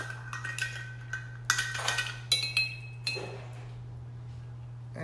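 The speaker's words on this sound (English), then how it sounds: "I found that the easiest way to drink this drink is to stir it while you're drinking it." A spoon clinks against a glass while stirring a detox drink made with apple cider vinegar, olive oil and turmeric; bright intermittent clinks and scraping in a few bursts, close, over a low steady hum.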